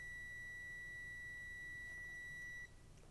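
A multimeter in continuity test mode gives one steady, clean electronic beep that holds for over two seconds and then stops, over a quiet background hiss.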